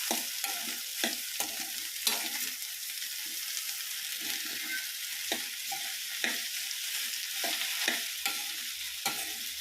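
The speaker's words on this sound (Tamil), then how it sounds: "நல்லா கிண்டி விட்டுருங்க." Sliced okra (vendakkai) frying in a pan gives off a constant soft sizzle while a spoon stirs it, producing repeated scraping knocks at an uneven rhythm, close up and fairly quiet.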